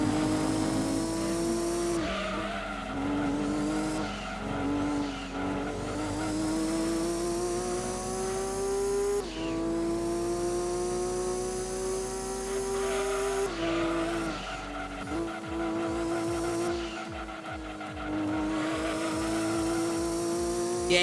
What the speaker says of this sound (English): you can hear my car just bouncing side to side.